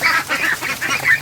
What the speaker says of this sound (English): Ducks panicking for no reason.